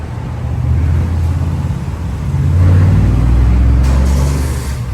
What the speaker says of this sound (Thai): สังเกตเครื่องยนต์จะสตาร์ทติดครับ